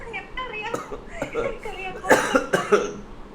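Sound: coughing

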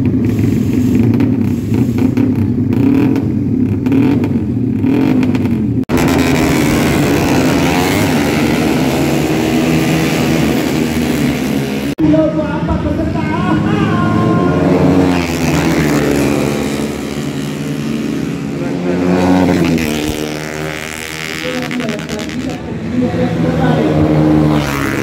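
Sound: race cars racing on a new circuit

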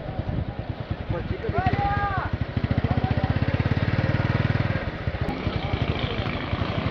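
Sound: motorcycle engine idling at cattle market

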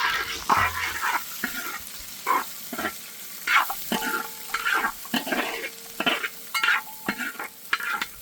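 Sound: onions frying with chana dal in oil

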